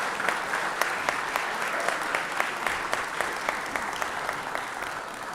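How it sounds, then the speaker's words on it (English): Sustained applause from a crowd in a legislative chamber honoring firefighters, steady and fairly loud, with a few sharper individual claps standing out against the dense wash of clapping. "let's give these gentlemen behind me a round of applause real quick"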